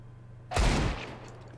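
A single loud burst of AK rifle fire in a Counter-Strike match, a sharp close blast with a short tail that fades in under a second, with no voice over it.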